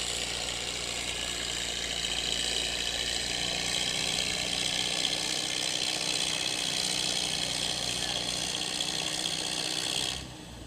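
A tractor engine with a U-type motor runs steadily at a barnyard tractor pull at the Georgetown Fair, a loud, continuous roar with a broad hiss that drops away abruptly at the end.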